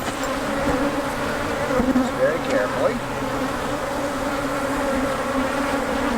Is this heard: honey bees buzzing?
yes